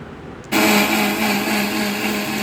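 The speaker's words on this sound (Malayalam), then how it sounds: "അതിൻ്റെ കൂടെ കുറച്ച് കറിവേപ്പിലയും പച്ചമുളകും കൂടി ഇട്ടിട്ട് നന്നായിട്ട് അരച്ചെടുത്ത്" A kitchen mixer grinder starts abruptly and runs loud and steady with a whirring motor drone, grinding grated coconut with curry leaves and green chilies into a paste for an ash gourd curry.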